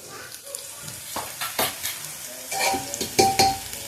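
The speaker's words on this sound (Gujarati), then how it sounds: "આજે ડુંગળી સતરાઈ ગઈ છે હાલો મગ નાખી દો" Moong beans tipped into a pan of sautéed onions, giving a bright, steady sizzle with scraping stirs and a few clinks of a utensil against the pot, close and alone without talk.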